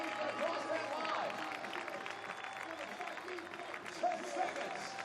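Crowd noise at the CrossFit Games 2019 team ruck event, a steady wash of cheering and applause from spectators that runs the whole time, with a voice calling out over it.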